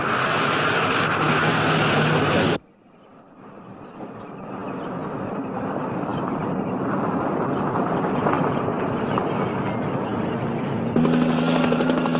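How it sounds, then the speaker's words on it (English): A police helicopter flies over a highway patrol pursuit, its rotor and engine giving a loud, continuous droning roar that briefly drops away after a few seconds, then builds again and holds steady. "Helicopter 2150. He's on his way again."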